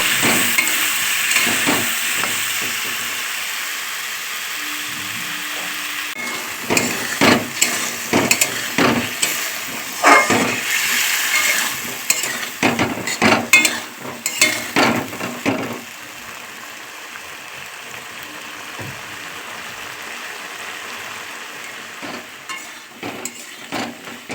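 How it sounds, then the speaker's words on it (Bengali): Vegetables with potato, taro, yardlong beans and prawns are stirred in a spiced masala in a pan, giving a soft steady sizzle broken by repeated close scraping strokes of a spatula. "এবার আরও বেশ ভালো করে কষিয়ে নেব"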